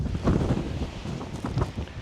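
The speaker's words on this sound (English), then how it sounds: "it is just too windy" Strong wind roars outdoors in New Mexico's Guadalupe Mountains, a steady, loud buffeting rumble with gusts rising and falling throughout, with no voices.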